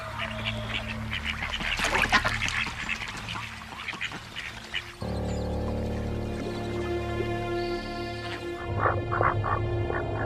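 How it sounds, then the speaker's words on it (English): Wild ducks quack in repeated harsh, nasal bursts during dominance displays at the water's edge, several birds calling near and loud, with a sustained honking call in the middle and a flurry of quacks at the end. "Feeling safe, the ducks focus on their own displays of dominance and bravado."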